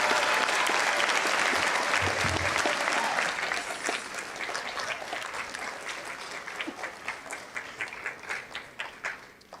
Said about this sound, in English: But give yourselves one more big round of applause.